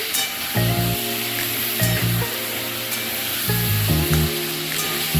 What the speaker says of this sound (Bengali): চিকেনটা আগে ভেজে নিচ্ছি